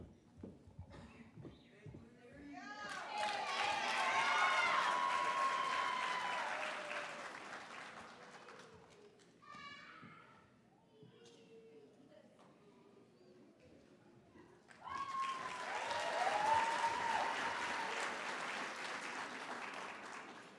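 Applause from a commencement crowd for the students of the year at an ECPI University graduation on the Charleston campus, rising in two broad waves with a quieter gap between them, mixed with some voices.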